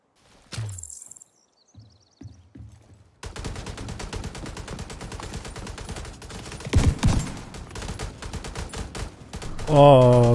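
A double-barrel shotgun fires in The Division 2 video game. After a few sparse quiet sounds, a loud, dense and continuous barrage of gunfire takes over for several seconds.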